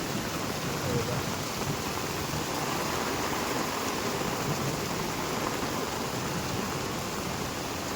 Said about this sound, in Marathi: आता परत जोर धरले ना पावसान.